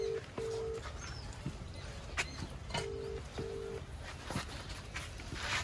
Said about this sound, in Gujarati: યાર દીવા તો ફોને ઉપાડતા નહીં.